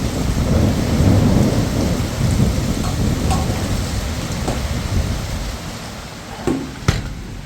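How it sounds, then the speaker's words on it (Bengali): Rain falls hard during a thunderstorm, a loud rushing roar with rumbling thunder, easing slightly toward the end, where a couple of sharp knocks stand out. "দেখেন বৃষ্টি নামে সব তলায় গেছে"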